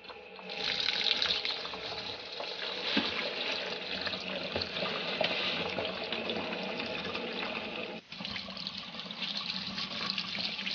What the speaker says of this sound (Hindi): अब इसके ऊपर मैं ठंडा वाटर डाल दूंगी